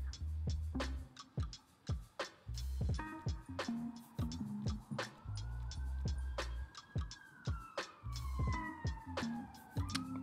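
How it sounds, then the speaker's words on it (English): A wailing police siren rises and falls outside in the background, partly buried under repeated loud thumping knocks and clatter close by. "Loving the sirens outside."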